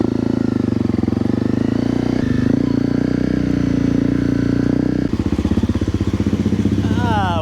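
A fuel-injected Honda CRF250L with an aftermarket exhaust runs close by, its single-cylinder engine thrumming loud and steady as it rolls into a shop, the pitch shifting abruptly partway through as the throttle changes.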